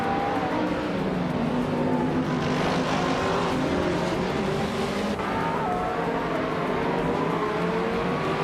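A 2015 Mercedes-AMG GT and other race cars in a racing video game, engines droning loudly and steadily as the pitch climbs and shifts, with no speech.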